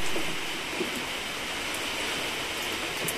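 Rain falls steadily on a rural Vietnamese riverside area after a fishing trip, a constant close hiss of dense drops with no breaks and no voices.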